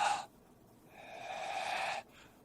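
A voice imitates a pharyngeal consonant, pulling the tongue root back for a short harsh breathy burst, then a longer sustained constricted fricative hiss, alone without speech.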